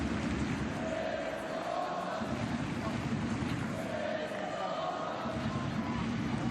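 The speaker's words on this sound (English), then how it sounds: "It's Sydney Lohmann who is now getting chants from the home crowd." Home fans at a women's Bundesliga football match, Bayern Munich against FC Köln, keep up a steady, dense roar with rising chant-like swells, heard from a distance and with no clear talk.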